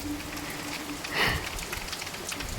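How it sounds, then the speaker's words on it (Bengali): Heavy rain driven by strong gusty wind, a steady broadband wash of falling water at moderate level with a brief louder swell in the middle. "অলরেডি ভালো বৃষ্টি শুরু হয়েছে"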